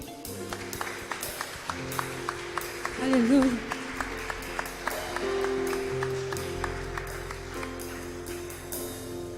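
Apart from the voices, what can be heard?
congregation applauding in church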